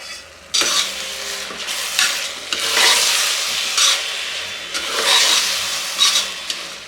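Rice frying in a pan for egg biryani, a steady close sizzle swelling in repeated bursts as it is stirred, with faint scrapes of a utensil against the pan and no voices.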